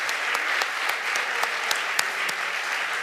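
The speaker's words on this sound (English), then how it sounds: "And a round of applause, too, for Bill and Susan Epstein for bringing Ruth Reichl here." An audience applauds author Ruth Reichl after her program, a steady dense patter of many hands with a few sharper individual claps standing out, sustained and free of talk.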